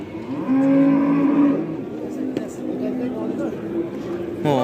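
A cow moos loudly at a busy livestock market, one long low call up close, with people talking around it and the bustle of the crowd continuing afterward.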